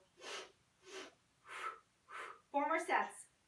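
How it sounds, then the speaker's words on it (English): During a Pilates mat breathing exercise, a person makes four soft, evenly spaced breathy sniffs or blows, then a louder voiced exhale, close and quiet, alone without other talk. "Sniff, sniff, blow, blow."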